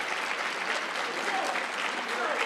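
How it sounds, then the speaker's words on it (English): Audience applause at a Pan African Mathematics Olympiad ceremony, dense and continuous clapping from a crowd, fairly loud and even across the whole short stretch. "Let's give them all another round of applause."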